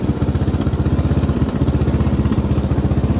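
A jump-started riding lawn mower engine running close by, a loud, steady, rapid pulsing putter that runs unbroken with no talking.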